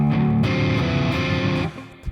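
An electric guitar in drop D tuning plays a heavy rock riff through a Friedman amp with moderate distortion and spring reverb, a loud, thick chugging burst that stops abruptly and leaves a brief tail.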